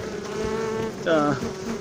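Honeybees, many of them field bees, buzz loudly on a hive frame, a close, dense hum with wavering tones that swells in the second half.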